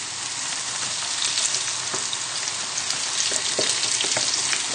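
Whitebait frying in very hot oil, a steady, loud, dense sizzle and crackle that holds evenly throughout with occasional sharper pops, no talking.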